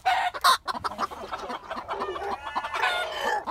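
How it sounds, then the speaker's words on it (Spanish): Several young chickens, a hen chick and young roosters including Nagasaki gamecock types, cluck and peep nearby, with a short crow-like call breaking in, busy overlapping farmyard chatter. "Tres pollitos. Una pollita y dos,"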